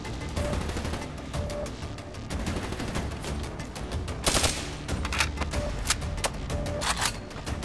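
Rapid automatic gunfire from Call of Duty Black Ops 3 rattles in dense, continuous bursts with sharp peaks, layered over game effects, fairly loud throughout.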